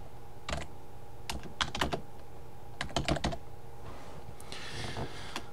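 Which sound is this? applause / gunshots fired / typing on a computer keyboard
typing on a computer keyboard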